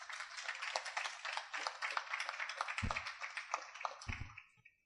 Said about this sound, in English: I would like you to give a round of applause to the prison services for this